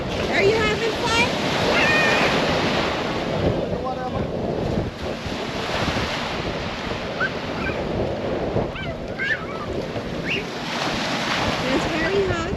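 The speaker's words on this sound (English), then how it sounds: "The wind is blowing, so you don't really feel the sun burning you too much." Strong wind sweeps across the open deck of the cruise ship Royal Caribbean Explorer of the Seas at sea, a loud continuous roar and microphone buffeting with faint surf beneath, while voices talk intermittently over it.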